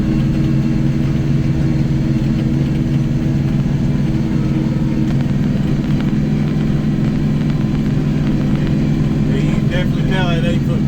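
A tractor labours through tall, soaking-wet grass with an 8-foot brush hog behind it. The engine drones steadily and loudly throughout, and a person talks over the noise.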